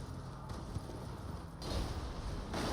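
Horse hoofbeats from riding in a video game, a steady clip-clop of trotting hooves continuing throughout, moderately loud beneath a low background ambience.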